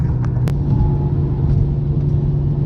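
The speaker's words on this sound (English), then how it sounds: "Man, this car is driving so smooth" A 28-year-old Lexus car drives along with a steady low cabin rumble and road hum. A couple of faint clicks sit over it, with no voices.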